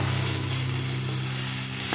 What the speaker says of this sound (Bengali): এটা ভাজতে থাক ভাজা হতে থাক